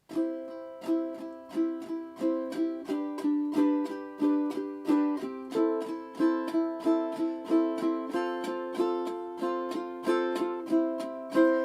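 Ukulele chords strummed with even down strokes, a steady rhythm of bright, ringing strums repeating close up, with no voices.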